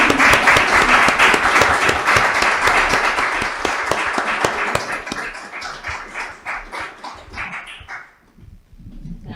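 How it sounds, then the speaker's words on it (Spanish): Audience applause closing a round-table event presentation, a dense crowd clapping loudly that thins and fades out toward the end. "un aplauso para todos"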